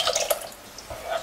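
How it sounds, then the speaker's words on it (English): Water dripping and splashing as it is poured into a thick cashew and almond paste gravy for malai kofta, a short uneven trickle in two bursts, close and fairly quiet. "Now add some water to it."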